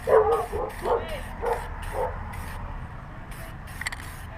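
A dog barks outside in a quick series of about five sharp barks, moderately distant and echoing, then falls quiet while faint background noise continues.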